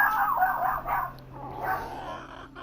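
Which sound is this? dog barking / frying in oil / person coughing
dog barking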